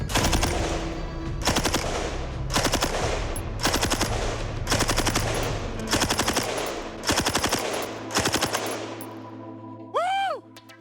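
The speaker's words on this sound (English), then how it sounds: "I just fired 45 rounds from the M60" An M60 machine gun fires a string of short bursts outdoors, loud, sharp, rapid reports in roughly eight separate volleys with brief gaps, followed by a whistling ring at the end.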